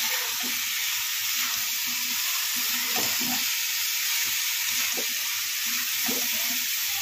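Banana flower vegetable with chilli and coriander powder sizzles in a pan while a spoon stirs it, producing a steady frying hiss with rhythmic scraping and knocking strokes up close, without voices.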